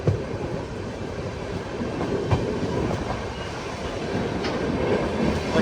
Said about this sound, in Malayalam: രാജസ്ഥാനിലെ അജ്മീറിൽ നിന്നും 716 കിലോമീറ്റർ യാത്ര ചെയ്ത് ട്രെയിൻ ഇതാ ഗുജറാത്തിലെ ഭുജ് റെയിൽവേ സ്റ്റേഷനിലേക്ക് എത്തിയിരിക്കുകയാണ്